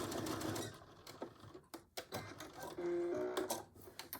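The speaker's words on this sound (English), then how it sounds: "Ready for our back stitching." Sewing machine back stitching a Betty Boop pillow cover, short bursts of rapid mechanical whirring and clatter separated by brief pauses, close and clear.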